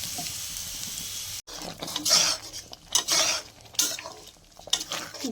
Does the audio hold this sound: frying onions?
yes